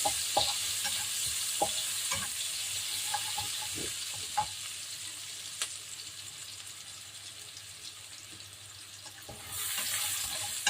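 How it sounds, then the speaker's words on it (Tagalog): Onions being sautéed and stirred in a pan for chicken steak, with oil partly removed; a steady close sizzle runs throughout, broken by scattered soft stirring knocks and scrapes, brighter and louder near the end. "igisa lang natin yung sibuyas"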